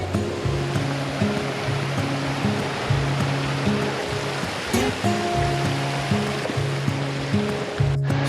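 Water rushes steadily from a stream and waterfall on an Arkansas hike, a dense, continuous broadband roar that stays even throughout with no voices.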